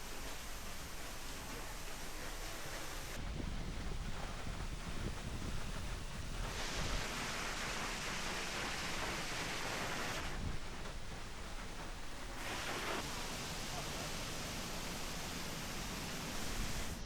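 A continuous roaring rush of a water curtain falling inside a cave fills the space, swelling and dipping in broad waves of noise, with no talking.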